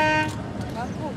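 At the start of a skûtsje sailing race, a horn gives a short tonal blast near the beginning. A commentator talks over it and crowd noise carries in the background.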